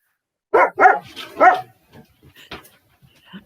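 A dog barks and yips a few times indoors during a town selectmen meeting, several close, sharp barks followed by softer whimpering sounds.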